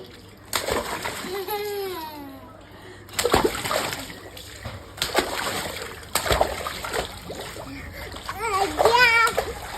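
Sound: child splashing water while swimming

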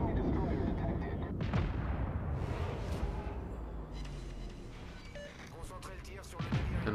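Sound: naval gunfire in the video game World of Warships

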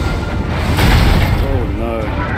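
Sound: grenade explosions in the video game Lies of P

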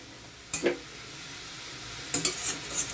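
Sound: amaranth greens stir-frying in a pan

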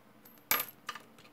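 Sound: bronze penny dropped on hard floor

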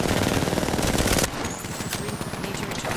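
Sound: energy weapon gunfire in Apex Legends video game

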